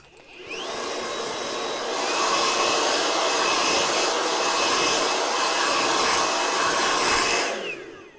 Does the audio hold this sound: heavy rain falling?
no